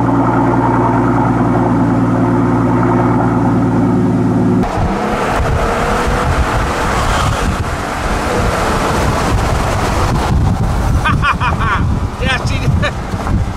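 Strong wind buffeting the microphone on a moving car overwhelms the stock exhaust of a 6.0L V12 Mercedes S65 AMG, a constant loud roaring rush with the engine note barely distinguishable underneath.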